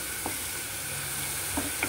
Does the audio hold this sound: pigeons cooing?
no